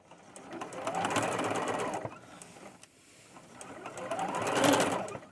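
A sewing machine stitches skirt fabric for a boho fairy skirt made from upcycled material, running in two loud bursts that ramp up and down, with a short pause between them.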